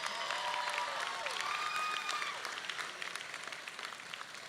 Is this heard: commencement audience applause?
yes